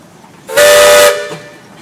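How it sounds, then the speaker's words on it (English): A half-scale Baker steam traction engine at a steam engine show sounds its whistle once, a single loud steady blast of about half a second that cuts off abruptly with a short tail, with no talk over it. "Matt, do you have a whistle? Any more?"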